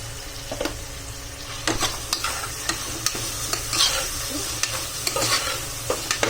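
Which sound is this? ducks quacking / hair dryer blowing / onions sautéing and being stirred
onions sautéing and being stirred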